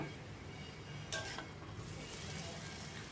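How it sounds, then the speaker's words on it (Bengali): Egg chow mein noodles stirred in a hot frying pan, a steady low sizzle with a brief scrape of the utensil against the pan. "আবারও ভালো করে নেড়েচেড়ে দেব।"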